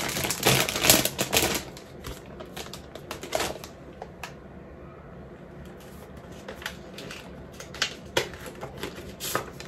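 A paper envelope is torn and opened by hand, with bursts of crisp crinkling and ripping alternating with brief quieter pauses, close up and without talk.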